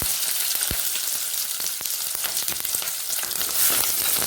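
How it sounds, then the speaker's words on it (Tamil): Sliced onions, green chillies and garlic sauté in hot oil in a pan, giving a loud, dense, continuous crackling sizzle with scattered pops, close up and with no voices. "கொஞ்சம் நல்லா எண்ணெயிலே வதங்கணும்"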